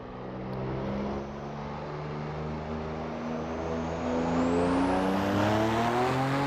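A Ruf Yellowbird at full boost in Assetto Corsa at Spa, its engine droning and climbing steadily in pitch as it accelerates hard, the note swelling louder toward the end with no talking.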